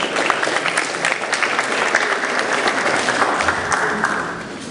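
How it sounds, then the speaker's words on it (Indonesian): Sustained audience applause following a film screening at a Balinese art discussion event, dense clapping filling the room steadily for several seconds before tapering slightly at the end. "beri tepuk tangan sekali lagi untuk sebuah film yang sangat luar biasa."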